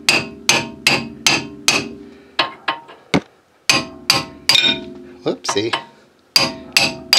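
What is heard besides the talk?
hammering a socket extension to seat the brake caliper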